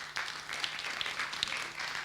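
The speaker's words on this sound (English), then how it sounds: "Please give them a warm applause." A crowd applauds a panel at a festival session, a short, soft, steady wash of clapping heard from a distance.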